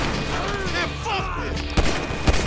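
Gunfire in the video game Grand Theft Auto V, with sharp shots bursting out near the end over a dense layer of game ambience and voices, two distinct loud cracks standing out against the steady background.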